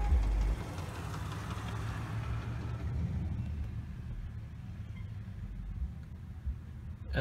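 A car cruising along a road, heard from inside as a low, steady engine and tyre rumble with a brief louder surge at the start, no voices.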